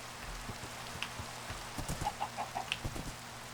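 Steady Minecraft rain hisses throughout as a soft, even patter, while a run of short chicken clucks pops out near the end; no voices.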